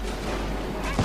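Gunfire and artillery in a Company of Heroes battle between Axis and Allied squads, a dense, loud rumble of shots and booms with a slightly stronger blast at the end of a very short moment.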